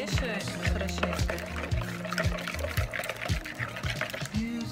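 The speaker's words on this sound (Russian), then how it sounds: "я положу чуть-чуть воды горячей, которую в пюре я сделала" Hot water from making mashed potato is poured into a beaten egg and salt mixture for manty dumpling dough, a steady close trickling pour with light stirring and clinking underneath.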